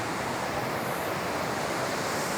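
Spring water runs alongside a mountain road in Kumrat Valley, Pakistan, as a steady, close, unbroken rushing hiss with no voices.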